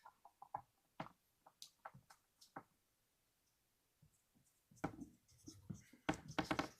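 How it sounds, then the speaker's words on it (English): Pen or pencil scratching on paper by hand, close and quiet, in short irregular strokes with a brief pause in the middle before busier scribbling resumes. "I'm gonna write that down."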